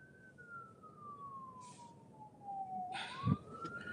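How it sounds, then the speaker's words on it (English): An ambulance siren sweeps steadily down in pitch then rises again as it passes close by, loud and alone over low street rumble, with a brief thud and burst of noise near the end. "I'm not gonna try to beat the ambulance."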